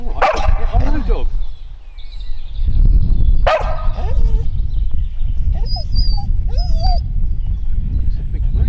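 A dog barks and whimpers close by beside a riverbank fishing spot where a big bream has just been landed, giving a few sharp loud barks followed by softer whines and yips, with someone talking in between.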